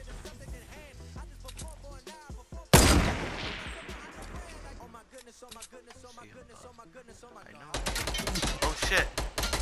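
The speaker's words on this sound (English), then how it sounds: "She's shooting." Sharp bursts of gunfire in Fortnite Battle Royale, a loud blast partway through followed by quieter shots and a rapid volley near the end, with a player talking in between.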